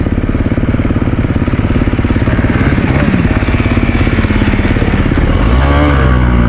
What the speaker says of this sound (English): Go on Ian, keep the revs up